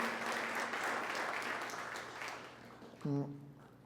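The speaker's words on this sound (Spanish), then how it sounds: "Démosles aplauso bien fuerte al Señor." Church congregation applauding, a fairly faint wash of clapping that fades over a few seconds before a brief tonal sound cuts in near the end.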